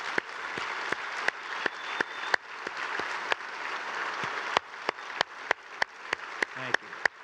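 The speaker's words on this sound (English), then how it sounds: "so we can go ahead and give you a round of applause" Steady crowd applause at an awards presentation honoring finalists, a dense wash of clapping with a few sharp, close individual claps cracking out rhythmically above it.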